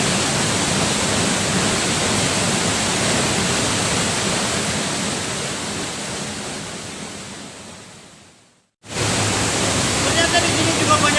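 Capolaga waterfall roars as a dense, steady rush of falling water, loud and close, with a brief cut to near silence before the roar resumes.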